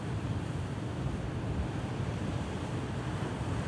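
Strong wind blows across an open coastal landscape, a dense, constant roaring rush with microphone buffeting and no other clear sounds.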